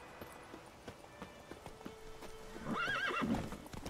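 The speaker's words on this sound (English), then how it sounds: "Let's go and get these wild horses under control." In The Witcher 3: Wild Hunt, wild horses' hooves clip-clop in a quick irregular rhythm, then a horse lets out a loud, wavering whinny near the end.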